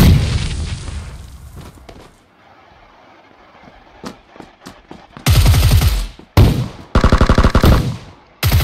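Rapid automatic gunfire from a shooting video game, loud and close, with scattered single shots first and then long sustained bursts broken by short gaps.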